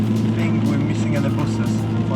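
Car climbing a rain-soaked road in Norway, a steady low engine drone with hissing tyre spray on wet asphalt, close and continuous.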